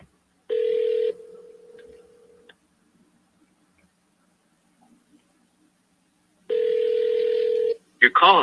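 An outgoing phone call rings back before forwarding to voicemail: two long, steady electronic ring tones separated by a long quiet gap, with a brief voice starting right at the end.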